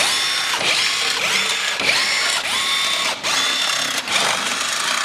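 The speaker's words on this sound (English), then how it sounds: "To make it fast, I use an impact gun." An impact gun rattles off the CVT casing bolts on a Yamaha Aerox scooter in repeated loud bursts of hammering whir, each short run winding up and stopping before the next, close and dominant.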